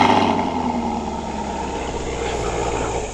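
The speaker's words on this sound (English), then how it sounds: "that quad tip dual exhaust, which we can take a listen to since it has remote start" A 2024 Chevrolet Camaro 2SS convertible with a V8 and quad-tip dual exhaust idles after a remote start, giving a steady low rumble close by with no talking.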